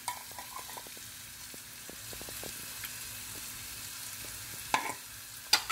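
Oil heats in a non-stick pan on a stovetop for kebabs, giving a quiet, steady low sizzle with scattered soft crackles and a few louder clinks near the end.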